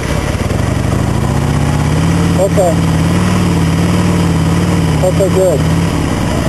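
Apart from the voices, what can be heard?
twin-cylinder motorcycle engine idling at low RPM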